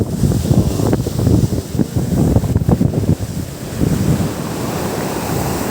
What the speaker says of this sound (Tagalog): Marami alon dito ah.